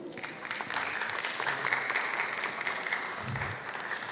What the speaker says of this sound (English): Please giving applause.